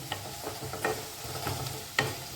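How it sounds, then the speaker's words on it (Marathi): A paste with garlic and ginger sizzles softly as it is sautéed in a pan, with a spoon scraping and tapping the pan in a few quick strokes over a steady low frying hiss. "आता आपण पेस्ट टाकतो त्याला व्यवस्थित आपण परतून घ्यायचं"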